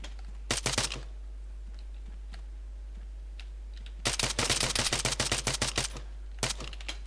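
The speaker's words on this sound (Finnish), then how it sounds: "Mä ammun sitä vähän sinne selästä." Bursts of rapid gunfire in a first-person shooter video game, short rattling volleys separated by quiet gaps, with one long sustained stretch of automatic fire near the middle and a final brief burst.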